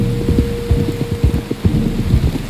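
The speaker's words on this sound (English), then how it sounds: "You were right about the damn rain" Heavy rain pours in Red Dead Redemption 2 over deep, rolling thunder rumbles, loud and close, with a dense patter running throughout.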